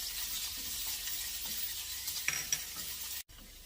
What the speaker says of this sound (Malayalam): കടുക് പൊട്ടിയിട്ടുണ്ട്, നമുക്ക് ചെറിയ ഉള്ളി ഇട്ട് കൊടുക്കാം